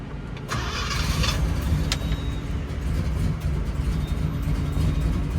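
A 1967 Pontiac GTO convertible with a four-speed cranks briefly and fires up, settling into a loud, steady rumbling idle that fills the whole stretch.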